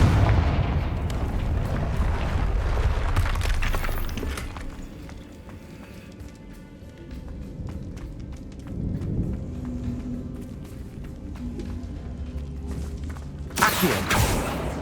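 Confringo fire spell explosions in the video game Hogwarts Legacy: loud booming blasts at the start, quieter rumbling impacts through the middle, then another sharp burst near the end.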